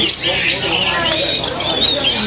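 Dense chorus of birds squawking and chirping at Yuen Po Street Bird Garden, a continuous loud racket with faint crowd murmur mixed beneath.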